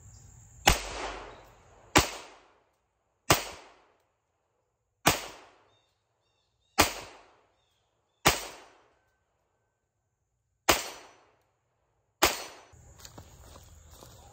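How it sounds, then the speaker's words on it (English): A GSG Firefly pistol fires at an outdoor shooting range, eight sharp loud shots spaced a second or two apart, each snapping hard and decaying quickly into quiet. "I'm gonna put some rounds down the range here."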